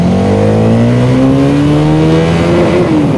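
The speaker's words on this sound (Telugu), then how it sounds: "ఈ బైక్ యొక్క ఎగ్జాస్ట్ అయితే చాలా బాగుంది గైస్. బేస్ ఎక్కువ ఉంది." A 2024 Hero Karizma XMR 210 motorcycle revs loud and close, its bassy exhaust note climbing steadily in pitch and then easing back slightly, with no speech.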